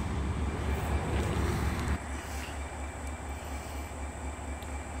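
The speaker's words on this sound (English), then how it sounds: "I just want to take a look at some of these Norfolk train engines" Norfolk Southern train engines rumble past at a distance, a steady low drone with wind buffeting the microphone that eases partway through.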